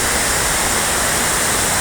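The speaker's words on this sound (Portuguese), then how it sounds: "Escuta esse som da água." Water rushes steadily over a waterfall, a loud, dense and unbroken flowing roar close by, with no voices.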